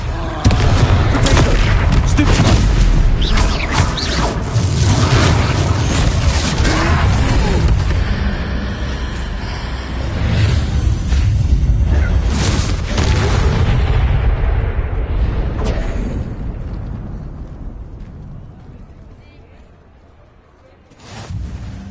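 Confringo fire spell blasts in the video game Hogwarts Legacy, a dense run of loud booming explosions and crackling impacts over game music and effects, easing off toward the end.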